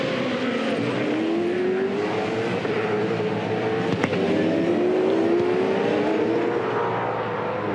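2007 V8 Supercars race cars scream past on the last lap of a Tasmania race, a loud continuous engine roar with rising and falling pitch as several cars run close together, with a sharp bang midway.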